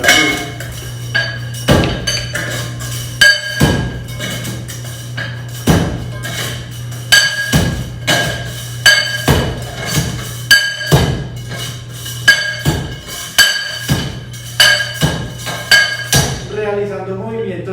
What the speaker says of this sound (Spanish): Tomamos el martillo y lo que hacemos es levantarlo y dejarlo caer de manera dura.